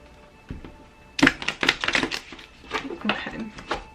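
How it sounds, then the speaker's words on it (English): Tarot cards being shuffled by hand, a quick run of papery riffling and slapping bursts that starts after a soft tap, close and moderately loud, with faint speech nearby. "This one's a little bit harder for me to shuffle."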